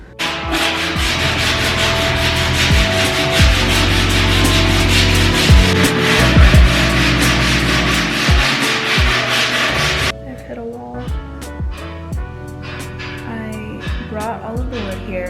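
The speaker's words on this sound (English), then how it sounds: "All of the wood here, I sanded it down, I prepped it for staining." Wood is sanded by hand for staining during a tattoo studio renovation, with a close, continuous rasping rub in long repeated strokes that later thins into lighter, sparser scraping.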